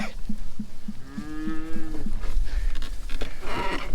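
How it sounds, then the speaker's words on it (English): Cows moo repeatedly, with several long, low, drawn-out calls overlapping at close range against steady outdoor background noise. "Look at all these happy cows."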